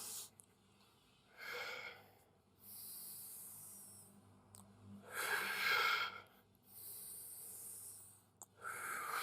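Deliberate breathing during an exercise set: several long hissing inhales and exhales with sharp nasal snorts, spaced a few seconds apart, close and fairly quiet against a silent background.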